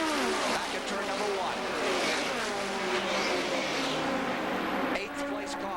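Stock cars race down the back straightaway at the 1982 Daytona 500, their engines roaring loudly and steadily throughout while a commentator talks over them.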